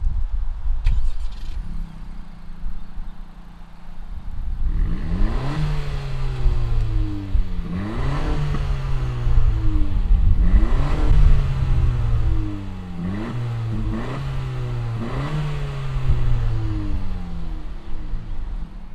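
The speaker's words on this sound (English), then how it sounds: "let's fire up this Si and see what it sounds like" A 2020 Honda Civic Si engine fires up after a brief quiet moment, then settles into a steady idle broken by a series of sharp revs that rise and fall repeatedly, loud and close, with no talking.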